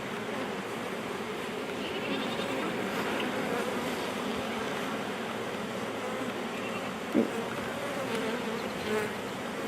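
Honeybees swarm in a continuous close droning buzz around an open hive during an inspection, with the steady hum filling the whole stretch and one brief knock partway through, no talk.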